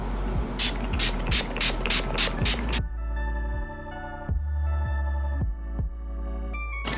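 Seven quick spritzes from a makeup setting spray nozzle in a fast rhythm, close and crisp, followed by a low throbbing hum with soft thumps.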